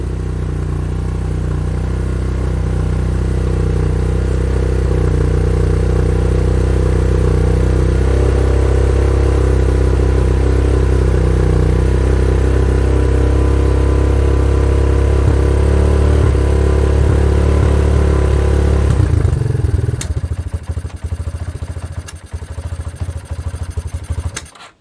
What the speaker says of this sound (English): got a little bit of a popping, which is telling me that chances are that the valves are out of adjustment on this thing